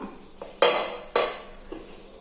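A lid is lifted off a pot of soya chunk curry, giving two loud metallic clanks with a scraping ring, then a faint clink as the pot settles in a quiet kitchen.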